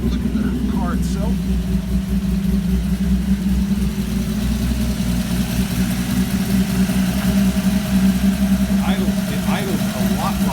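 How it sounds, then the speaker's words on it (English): Ford 200 inline-six fitted with FiTech fuel injection idling, a steady, even low rumble that stays loud and close throughout, with someone talking over it at the start and again near the end. "It idles a lot better than it did with the carburetor before."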